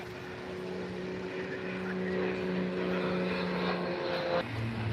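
Aerobatic display aircraft flying an inverted hesitation roll at the Farnborough Airshow 2022, a loud steady engine drone with sustained tonal hum across the whole stretch, continuous and without talk.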